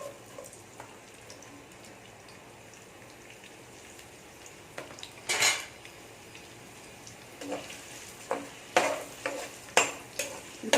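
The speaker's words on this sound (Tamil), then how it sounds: "இப்போ கட் பண்ணி வச்சுருக்கிற வெங்காயத்தை அதில் சேர்த்துடலாம்." Chopped onions hit hot oil in a pan for a fish masala, giving a soft sizzle broken by scraping stirs and bursts of crackle that grow louder in the second half, with no voices.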